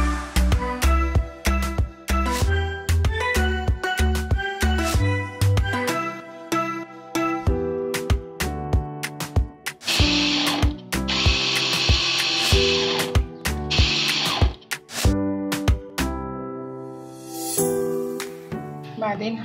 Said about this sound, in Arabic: هنزل البصلتين كده في الاول عشان ياخدوا لفة مع الخلاط كده